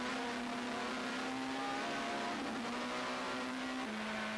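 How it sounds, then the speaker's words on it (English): Opel Vectra Super Touring race cars accelerating off the start line, a loud sustained engine drone with steady pitch that drops slightly near the end, no voices over it. "as the lights turn green, it's Sean van der Linde already trying to sneak his way through"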